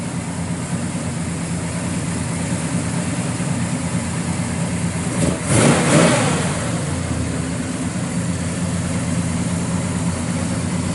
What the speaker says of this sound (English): Bumps out the exhaust real nice.